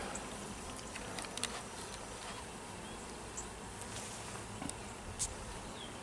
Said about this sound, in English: I got a lot of guard bees in here this morning.